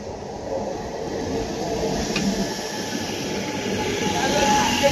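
A train passes nearby as a steady, continuous rumble of rail cars and wheels, loud and sustained throughout with a faint squeal, no voices.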